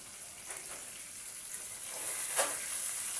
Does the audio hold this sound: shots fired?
no